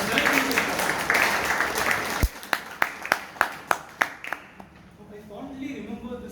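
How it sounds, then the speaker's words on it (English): Applause from a Toastmasters meeting audience in Bangalore starts as a full round, then thins into a few sharp, evenly spaced claps that fade out, with a voice faintly following. "So one more round of applause to him for celebrating this topic."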